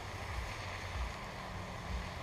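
Onions and mushrooms fry in a pot on a rocket stove, giving a steady, dense hiss of sizzling over a soft low rumble. The sound holds even throughout, with no talking.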